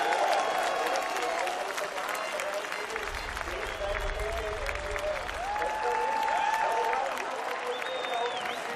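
A large MotoGP crowd at Assen roars and applauds Valentino Rossi after his race win, a sustained, distant wash of cheering with motorcycle engines whining over it and a commentator talking.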